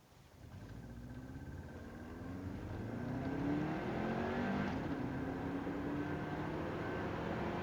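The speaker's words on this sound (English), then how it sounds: "Going to give it a nice second gear wide open throttle run when I get some clear road" A 1999 Subaru WRX with a Y7 ECU pulls hard in second gear at wide open throttle, the engine note climbing steadily in pitch and loudness from inside the car with no one speaking.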